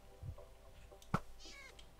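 A cat in the Minecraft video game lets out a short, sharp meow near the middle. Faint game ambience and soft scattered noises surround it.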